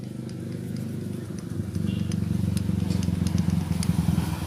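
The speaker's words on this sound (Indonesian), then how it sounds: "bunyi sedikit seperti itu kalau motor jalan jadinya besar" A Minerva MX 150 motorcycle engine with a worn, damaged piston runs rough and low, with a steady rapid knocking pulse that grows louder partway through, close up.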